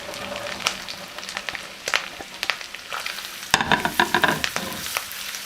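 Ham, ginger and garlic sizzle in butter in a pan, a crackling fry broken by sharp stirring scrapes and spatters that grow louder toward the end.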